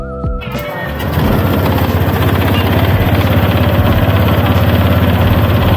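A Honda Click scooter engine with 54,257 km on it cranks and catches, then settles into a loud, steady, rumbling idle close by.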